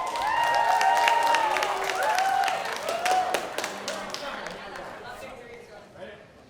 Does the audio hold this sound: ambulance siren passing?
no